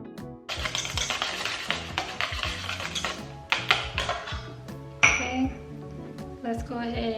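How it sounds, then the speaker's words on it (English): A whisk clinks and scrapes against a bowl in quick irregular strokes as mayo is mixed into a crab cake mixture for shrimp stuffed crab cake poppers, close and fairly soft, with a voice speaking over it. "And we'll whisk that in."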